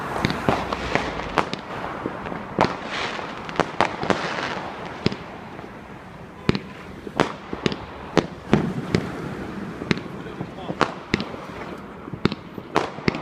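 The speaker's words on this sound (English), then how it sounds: "Someone's got some good fireworks over there" Bonfire night fireworks building to a grand finale: a steady stream of sharp bangs and crackling bursts, some close and loud, others distant, over a continuous rumbling wash of explosions with no talk.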